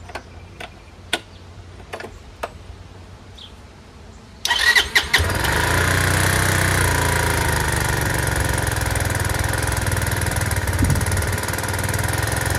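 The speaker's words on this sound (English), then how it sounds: "Starts really easily in the cold start" A Chinese 150cc scooter engine starts from cold: a few sharp ticks and clicks, then a sudden catch into a loud, steady, close idle that holds to the end.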